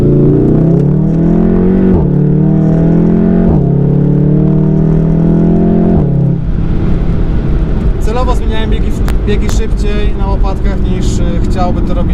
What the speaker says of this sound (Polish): usłyszeć naprawdę ten strzelający wydech, który brzmi przepięknie